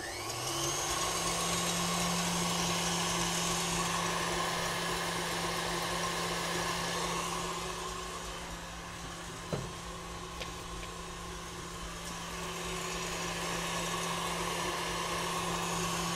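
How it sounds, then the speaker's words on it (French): An electric hand mixer whips egg whites in a bowl for a pastry dessert, a steady loud motor whir with a constant hum that eases slightly midway and then picks back up, running alone without talk. "Donc le batteur va beaucoup mieux brasser les blancs."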